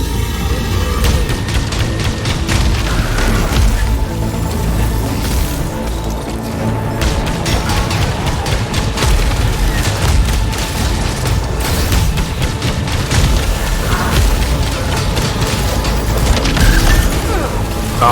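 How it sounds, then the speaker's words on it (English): Enemy suicide-bomb explosions in the sci-fi shooter Returnal, dense booms and crashes layered over constant loud game combat and mechanical clatter, continuous throughout with several heavier hits. "Oh, they suicide bomb."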